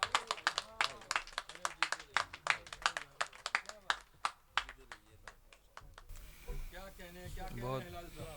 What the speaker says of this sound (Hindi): जोरदार तालियों से इस्तकबाल फरमाएं।